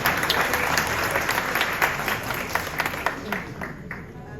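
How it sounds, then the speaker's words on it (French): A crowd applauds warmly for children in a live quiz competition, with steady clapping that gradually thins and fades toward the end. "Applaudissez-les pour les encourager, s'il vous plaît."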